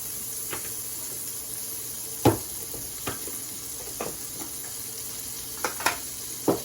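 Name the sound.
butter melting and sizzling in a pan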